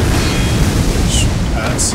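In the Dark Souls video game, the Hellkite Drake dragon breathes fire as a loud, continuous, rushing roar that fills the whole short moment, with a couple of faint high tones over it.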